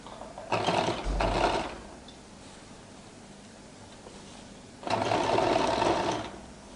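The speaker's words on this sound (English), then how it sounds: "So I'll top stitch on the lining." A sewing machine top stitching the lining of a flared skirt: two bursts of fast, steady mechanical whirring about a second each, separated by a quiet pause, close and with no talk.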